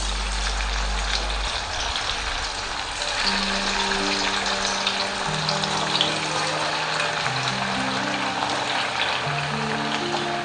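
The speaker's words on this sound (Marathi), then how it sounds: "ह्याला मस्त अशा कुरकुरीत होईस्तोपर्यंत मी तळून घेणार आहे" Coriander fritters deep-frying in hot oil in a kadhai, giving a steady, dense sizzle that stays close and fairly loud for the whole stretch, with faint tonal sounds underneath.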